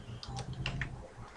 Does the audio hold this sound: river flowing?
no